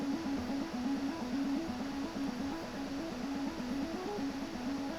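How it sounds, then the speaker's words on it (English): A synth arpeggio from a future house remix plays a repeating stepped pattern of short plucked notes at a steady rhythm, sitting low-mid over a dense, constant backdrop, with no voices. "Main thing is I added this arpeggio."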